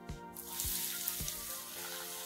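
Maida flour roasting in ghee in a pan over low heat, giving a soft, steady close sizzle with a few faint knocks of the pan, alone.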